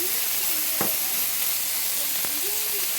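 Chicken breast sizzling in a pan in a one-pot ackee dish, a steady frying hiss with two sharp scrapes as a spatula turns the meat, and faint talk underneath.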